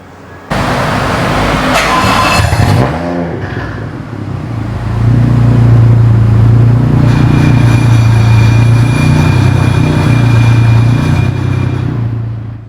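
Toyota Mark II engine revving with the hood up, a loud close roar that starts abruptly, dips briefly, then holds a sustained high rev for several seconds before cutting off.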